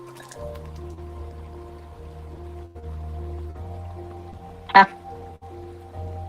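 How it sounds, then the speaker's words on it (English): A water effect in the Tears of Themis video game, soft liquid squishing and dripping over a low, steady musical drone, with one sharp brief splash near the end. "Water flows from his hands to lift the broken stones."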